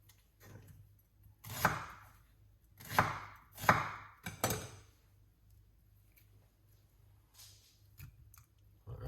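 A knife chops a medium purple onion on a board for a pineapple detox juice, with a few distinct close cuts in a quiet room, spaced irregularly, then a faint pause and another cut.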